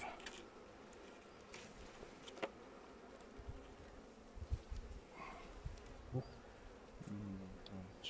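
Honey bees buzz in a steady low drone near a hive during a November hive inspection, with occasional soft taps and handling noises and a faint voice now and then.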